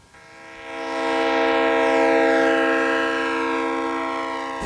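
A freight train horn blares loud and sustained as the train rolls past in Ohio, its pitch drifting slightly while the rumble swells and stays close.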